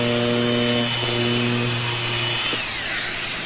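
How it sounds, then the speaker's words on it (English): A Festool DX 93 E delta sander runs at close range while sanding into a corner, a loud steady electric whine with a slight pitch shift as the pad meets the work. "So this little sander will allow you to get into corners very easily."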